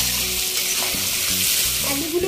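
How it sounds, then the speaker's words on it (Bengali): Potatoes fry in a hot pan for a fish-head curry, giving a steady, close sizzle with brief stirring scrapes throughout. "আলুগুলোকে একটু লাল লাল করে ভালোভাবে ভেজে নিতে হবে"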